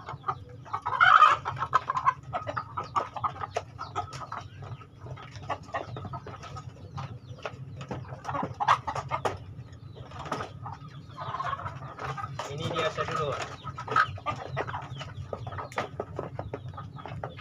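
Four hens and a rooster cluck and chatter continuously nearby in a coop, with occasional louder squawks and a brief spoken remark, over a steady low background rumble.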